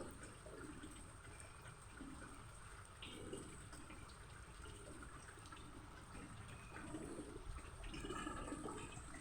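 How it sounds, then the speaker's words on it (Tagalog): Rain falling at a rural house near a river in Tarlac, a steady diffuse hiss of water with faint patters, continuous and fairly quiet, no talking. "Ay, umuulan dito eh."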